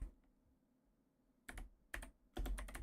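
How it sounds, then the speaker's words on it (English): Short bursts of sharp, close clicks come from a clicky mechanical computer keyboard. A quiet pause is followed by three quick flurries of keystrokes. "bask in the sounds of my clicky keyboard"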